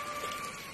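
Rain falls steadily on garden plants, with squash newly planted in the wet soil, making a soft, even hiss with a faint tonal hum running through it and no voices.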